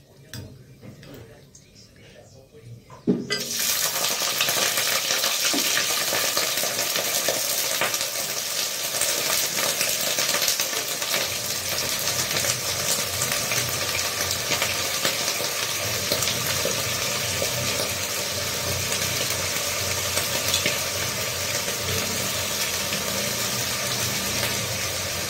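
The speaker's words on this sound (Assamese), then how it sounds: "তেল গৰম হৈ গ'ল এতিয়া এটা শুকান জলকীয়া দি দিম আৰু এতিয়া তিয়ঁহখিনি দি দিম" Dried chili and cucumber drop into hot oil, and a loud, dense sizzle starts abruptly after a quiet moment. The frying roars on steadily and close for over twenty seconds.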